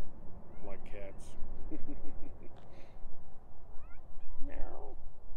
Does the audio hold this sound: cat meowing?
yes